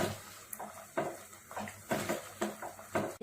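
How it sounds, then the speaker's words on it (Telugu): A spoon scraping and knocking around a pot of pappu charu as salt is mixed in, a run of close clinks and swishes in an uneven stirring rhythm, with no voices. "1 మినిట్ పాటు ఇలా కలుపుకుంటే సరిపోతుంది, ఉప్పు కలిసేంత వరకు"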